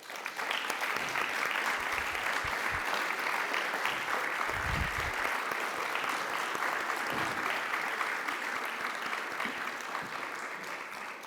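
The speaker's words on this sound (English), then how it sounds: "as we applaud them for their achievements" An audience at a governor's symposium applauds standing student award winners, producing continuous, even clapping of moderate loudness with a few low thumps mixed in, lasting about eleven seconds.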